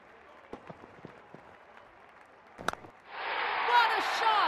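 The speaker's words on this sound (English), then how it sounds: "Crowd is going crazy." A cricket crowd at a Pakistan versus India T20 World Cup match erupts into a loud roar of cheering and applause after a few quiet seconds of faint thuds and murmur.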